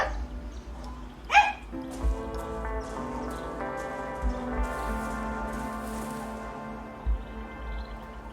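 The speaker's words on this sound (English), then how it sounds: "Oh, it's a dog." Dog barking in the post-apocalyptic RPG Broken Roads, a few sharp barks spaced out over a steady game ambience and soft background music.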